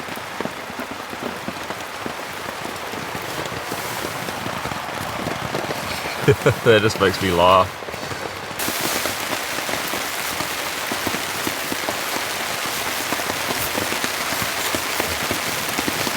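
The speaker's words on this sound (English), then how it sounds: "It's relentless rain." Heavy rain from a rainstorm drums steadily on a tent at a campsite, a dense constant patter throughout, with a brief spoken remark and a short laugh partway through.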